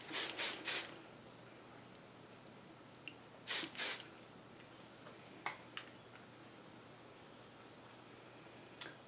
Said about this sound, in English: I'm spraying it back